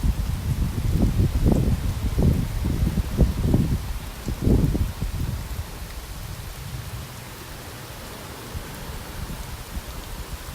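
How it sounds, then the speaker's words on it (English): Steady rain pours off a shed roof during a storm in North Naples, Florida, a constant hiss with heavier low splashing thumps early on, then an even wash of falling water. "You can see the rain coming down off the roof of the shed here in the video."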